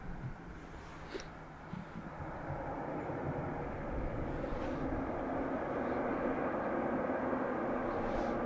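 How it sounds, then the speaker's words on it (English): A KLM Embraer E195 jet at Dublin Airport produces a low, distant engine rumble that gradually grows a little louder and steadier, with faint background noise. "Amsterdam to Dublin Embraer E195, operated by KLM."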